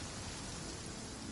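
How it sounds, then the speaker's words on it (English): Rain falls steadily in the video game Genshin Impact, a soft, continuous hiss of close, quiet downpour that stays even throughout, with no voices over it. "since we're already caught in the rain, we might as well enjoy it"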